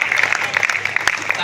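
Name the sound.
audience clapping at a poetry gathering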